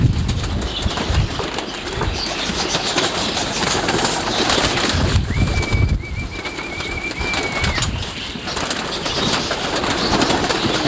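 Roller pigeons kept in a breeder pen coo and call close by, over a constant rushing background hiss, with one thin sustained whistle-like tone partway through.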